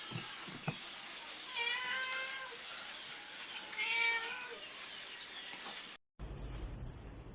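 Two plaintive cat meows a couple of seconds apart, close and moderately loud over a quiet hiss, followed by a brief cut to other noise.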